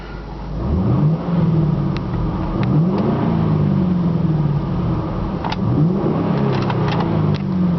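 A 2006 Ford Mustang GT's engine and exhaust rev repeatedly from idle, rising and falling in several throaty swells, loud and close with no voices.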